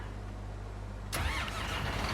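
A tractor engine in Farming Simulator 19 cranks and catches at a steady mid-pitched running note after a quiet stretch, close and fairly loud, with no talk.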